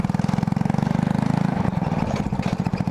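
Honda CBR1000 Repsol sport motorcycle idling close by, a steady low rumbling throb with fast even pulses that shift slightly in tone partway through.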